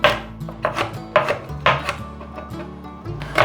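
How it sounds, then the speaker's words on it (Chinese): Knife cutting ginger into fine shreds on a board, rhythmic close chopping strokes of about eight firm knocks, clear and alone without talk. "把姜切片， 把姜切丝，"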